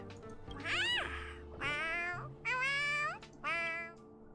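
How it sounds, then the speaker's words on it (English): A cat meows four times in a row, clear and close, each call a drawn-out rising and falling cry, with short pauses between them and no talking. "that was not a wolf, that was a meow"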